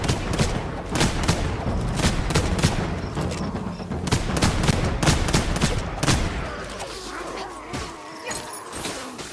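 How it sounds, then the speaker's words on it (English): In the Warhammer: Vermintide 2 video game, a warp fire thrower roars in dense crackling bursts amid rapid gunfire-like impacts, loud and chaotic throughout before thinning out near the end. "Listen, fire rat! That's a warp fire thrower."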